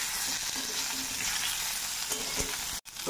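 Raw mango fried with panch phoron in mustard oil spits and sizzles loudly and continuously nearby, with scattered stirring scrapes, before a sudden momentary cut near the end.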